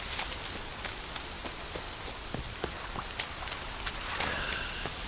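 Steady rain falls in The Witcher 3: Wild Hunt, a dense even patter with scattered sharper drops throughout.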